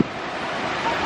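Gusty wind buffets a microphone outdoors in Santo Domingo, Dominican Republic, a steady loud rushing roar filling the short moment with no voices.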